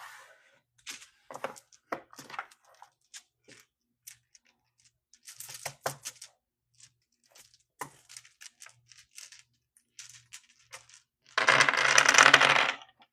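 Dice rattle and clatter in scattered small clicks, then a loud burst of shaking near the end, close and alone without talk.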